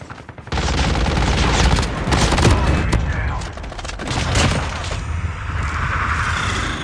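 Bursts of AK rifle fire from Call of Duty Mobile, with loud, dense automatic shots in near-continuous volleys lasting several seconds and small pauses between them.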